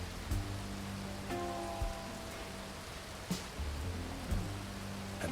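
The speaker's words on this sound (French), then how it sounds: "C'est la pluie, putain. J'aime pas la pluie." Rain falls steadily in the Red Dead video game, a constant hiss of drops on surfaces with a few soft thumps and brief tones over it.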